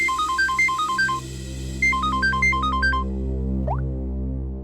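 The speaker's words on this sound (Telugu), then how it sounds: "అయ్యో, కాల్ వచ్చేసింది." A phone ringtone plays a bright, repeating electronic melody in two clear bursts as a call comes in, followed by a short rising tone over a low background hum.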